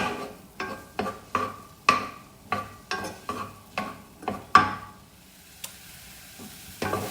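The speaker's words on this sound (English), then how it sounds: "It's all beginning to sizzle." Onions, peppers and fresh chilli sizzling in a pan while stirred and scraped in regular strokes, about one every half second, up close and with no talking.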